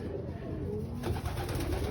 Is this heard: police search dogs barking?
no